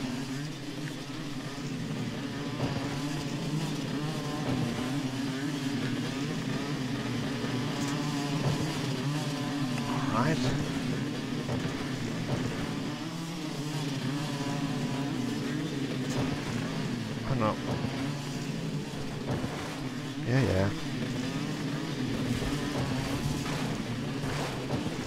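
Motorcycle engine droning and revving in Motocross Madness on PC, a steady mid-level buzz with occasional thumps and small bursts, no clear talk over it.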